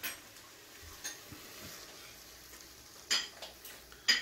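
Oil tteokbokki being stirred and scooped in a pan, soft scraping and a few sharp utensil knocks against the pan over a faint sizzle, quiet and close, no talking.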